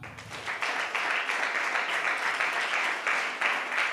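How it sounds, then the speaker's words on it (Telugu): A church congregation at a Sunday service breaks into loud, sustained applause, many hands clapping together in a dense wash that swells and holds. "ఒకసారి గట్టిగా చప్పట్లు కొడదామా?"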